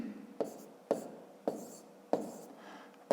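Pen writing by hand in a notebook while working a long multiplication, heard as five short, close scratchy strokes at a steady pace, with quiet pauses between them.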